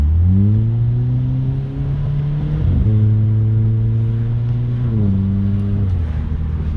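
A Hyundai Veloster with a modified exhaust, its engine droning loud and close as revs climb, drop sharply at two gear shifts, then climb again.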